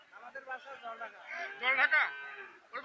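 Cattle at a busy cattle market give a drawn-out low moo in the foreground, with people talking around the animals.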